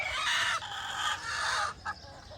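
A hen in a flock, restless and pestering the other hens, lets out a loud run of clucks and squawks for about two seconds, with a short squawk at the end and no one talking.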